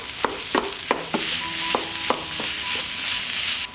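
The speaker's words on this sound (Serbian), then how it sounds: "U propržen luk dodajem i 600 g mlevenog mesa i nastavljam sve zajedno da pržim." Minced meat, 600 g, fries together with browned onion in a pan: a bright steady sizzle broken by repeated scraping strokes of a spoon, close and loud, no voices.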